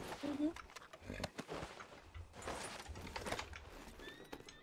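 A horse in the RedM Western video game clops along in steady hoofbeats with a short whinny near the start, heard under quiet, close conversation between players.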